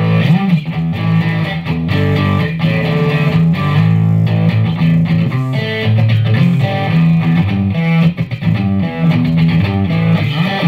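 Distorted electric guitar through a Marshall CODE 50 amp's JCM 800 model with some reverb plays a continuous, busy riff with gritty amp crunch, loud and sustained throughout.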